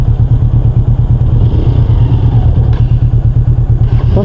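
A motorcycle engine thumps steadily at close range while being shifted into first gear, a loud, even low throb with a faint clunk partway through.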